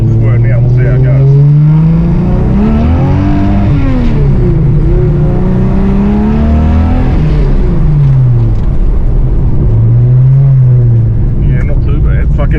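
A roughly 400 hp 265 Hemi engine fitted with an Edelbrock 650 double-pumper carburettor on an Aussiespeed four-barrel manifold revs up and down repeatedly, loud and close, its pitch swelling and falling in several distinct surges.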